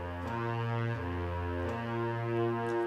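Buzzing lips play a brass-style lip slur, a steady sustained drone stepping between a few pitches over about three seconds, played alone with no talking.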